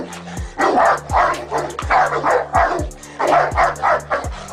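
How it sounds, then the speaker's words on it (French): Tosa Inu, a large Japanese fighting-dog breed, barks repeatedly in deep, loud, rhythmic bursts, close by, with some whimpering yips between barks. "C'est ainsi qu'est né le Tosa Inu, qui a rapidement été adopté pour les combats de chiens."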